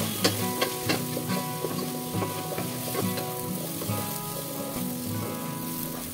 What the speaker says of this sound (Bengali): এবার এর মধ্যে পেঁপে দিয়ে সামান্য লবণ, হলুদ অ্যাড করে ভালো করে ভেজে নিলাম।